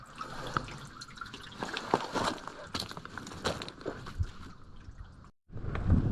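A small spring trickles out of rock on a mountain hillside, a steady watery burble heard up close, with footsteps and rustling over it.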